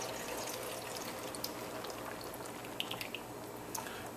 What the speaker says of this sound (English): Next to go in there will be the coconut milk.